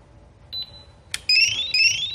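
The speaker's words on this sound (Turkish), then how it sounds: "Alarm devreye girdi" A door lock gives a short electronic beep, then a sharp click, followed by its loud, repeating rising-and-falling alarm siren, close and piercing.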